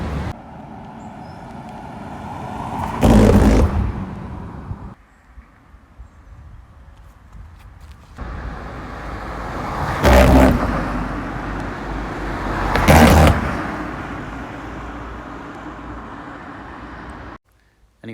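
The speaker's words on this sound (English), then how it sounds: "there's a lot of traffic through the Coombe" Road traffic passing through Burrington Coombe, Somerset, on a sunny day, with a steady background rumble and several louder vehicles sweeping close by at intervals, one after another.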